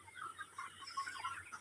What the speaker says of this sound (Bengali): সোনালী মুরগি আমার দিকে